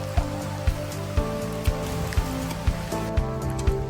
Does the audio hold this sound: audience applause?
no